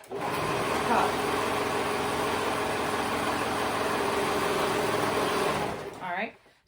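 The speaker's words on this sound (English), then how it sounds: "fold it right sides together and sew that raw edge together to create one cuff" A sewing machine runs steadily while stitching the raw edge of a cardigan cuff, a close continuous whirring hum for about six seconds before it slows and stops.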